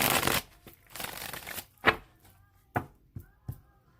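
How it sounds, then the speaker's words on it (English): A tarot deck shuffled by hand, heard as several quick riffling bursts with short gaps between them, close and crisp in a quiet room. "I'm going to shuffle it 3 more times"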